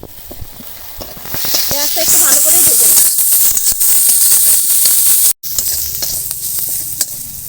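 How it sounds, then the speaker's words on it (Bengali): Finely sliced onions sizzle and hiss steadily in hot oil while browning, with occasional scraping stirs and a brief pause before the frying continues. "পেঁয়াজটা একটু লাল করে ভেজে নেব"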